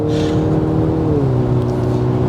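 A 2024 Mercedes-Benz E-Class W214 engine pulls under throttle on a night drive, a steady droning hum rising slightly in pitch, heard from inside the car with no talk.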